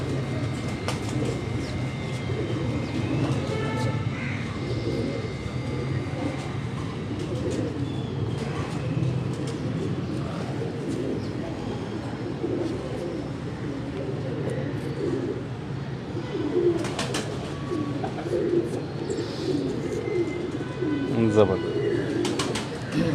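Ambar Sire pigeons cooing on a Karachi rooftop, low throaty coos repeating throughout at moderate loudness, with a voice talking at times among them and some background hum.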